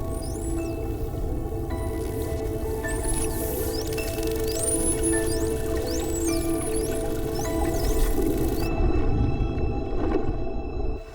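Underwater sperm whale calls: rising and falling whistles and chirps repeat through a steady hum, with faint clicks and buzzes mixed in, fairly loud and continuous with no talk.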